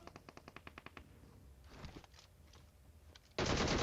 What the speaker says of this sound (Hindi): मैंने अमार भाई के बम में गोलियां मार के इनको डाउन किया